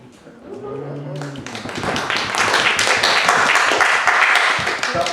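Audience applause at a small group speaking session, a brief voice at the start and then dense clapping that swells and holds steady.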